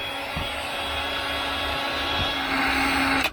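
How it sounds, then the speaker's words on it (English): A Milwaukee M18 cordless heat gun on a 6 amp battery blows steadily on heat shrink tubing, giving a continuous, fairly loud fan-and-air roar that stays even throughout and cuts off abruptly at the end. "I will use the heat gun on the heat shrink."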